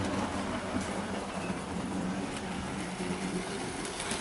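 Model N-Class locomotive running on a layout hauling a Wrenn six-wheeled milk tanker, a faint steady rolling rumble with soft rail clicks throughout, no voices.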